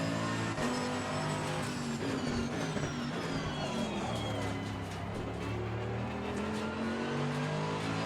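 GT3 race car engine lapping Mount Panorama in Assetto Corsa Competizione, a loud continuous roar with rising and falling revs through gear shifts, alone with no talk over it.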